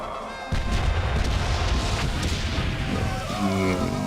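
Booming cannon and artillery fire from the World War I battlefield game Valiant Hearts: The Great War, a dense, loud rumble of blasts that begins abruptly after a short pause and rolls on continuously.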